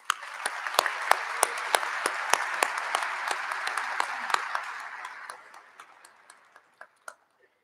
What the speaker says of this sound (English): Ladies and gentlemen, please a round of applause for our platform party.